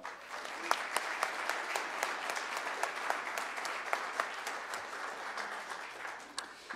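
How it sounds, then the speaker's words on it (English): Steady applause from an audience at a school winter jazz concert, many hands clapping in a dense, continuous patter with occasional sharper claps standing out, sustained throughout. "One more round of applause"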